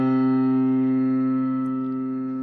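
A single sustained musical note one octave above the previous pitch, as from a string halved in length, held steady and loud with rich even harmonics, fading slightly toward the end.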